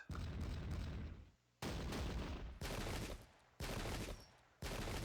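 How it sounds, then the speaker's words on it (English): Long-range rifle and cannon fire in the game Pike and Shot, Alma 1854 battle, heard as repeated loud volleys roughly once a second, each a sharp crackling burst that fades before the next, with no talk. "Some not very effective long-range rifle and cannon fire."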